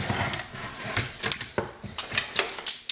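Metal measuring spoons clink and rattle against each other while one clean spoon is picked out in a kitchen, with a run of light, close, irregular taps and jingles.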